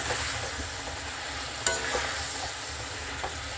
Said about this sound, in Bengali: এটাকে আবারও কষিয়ে নিতে হবে।